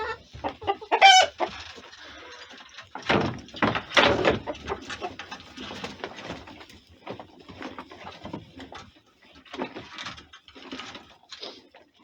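Hens cluck and a rooster calls close by on a frosty morning, with a sharp crow-like burst early on followed by bursts of clucking and scattered fowl chatter, plus a little faint talk.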